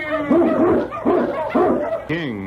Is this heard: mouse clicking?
no